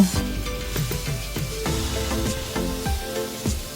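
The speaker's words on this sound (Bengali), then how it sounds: "ভালো মতো নেড়ে চেড়ে কষিয়ে নেব।" Ginger paste, garlic paste, chili, turmeric and coriander powders sizzling steadily in a pan as the base for beef haleem, with soft stirring scrapes over a continuous close fry.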